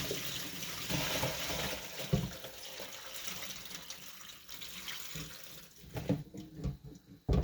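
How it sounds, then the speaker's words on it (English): Water splashing and pouring off pickles through a strainer, a continuous rushing trickle that grows uneven and spattery toward the end. "We're going to strain all that water out."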